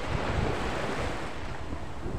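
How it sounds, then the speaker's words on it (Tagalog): Sea waves wash onto a beach in Masbate, Philippines, in a steady, loud, broadband rush with heavy wind buffeting the microphone and no voices. "andito tayo sa baybaying dagat"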